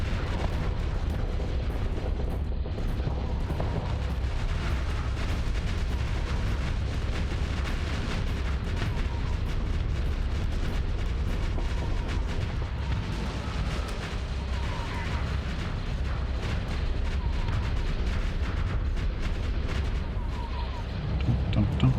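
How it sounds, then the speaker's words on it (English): Enemy missiles fire and burst in the space combat game Starsector, a dense, continuous rumble of launches and distant explosions running steadily throughout, with a voice talking faintly underneath. "Hearing their little missiles."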